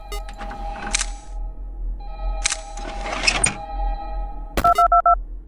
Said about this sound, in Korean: 고양이 신디 로봇은 소리에 민감했기에 각 방에 있는 전화기에 전화를 걸면 그 방으로 향했습니다